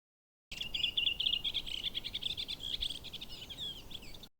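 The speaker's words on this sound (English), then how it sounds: "here I've recorded some birdsong" Bright, rapid bird chirps and trills ring out continuously over a soft background hiss, close and clear.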